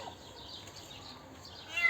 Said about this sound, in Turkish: Arabanın motoruna bir kedi eneği girmiş.